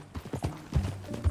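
Horse hooves clop in an uneven galloping rhythm while riding in the video game Red Dead Redemption 2, loud and close, with low thumps and faint game ambience between strikes.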